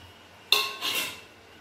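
Fried prawns tipped into a simmering pot of prawn malai curry, a sharp metallic clatter followed by a second softer scrape of the utensil against the pot, close and brief against a quiet background.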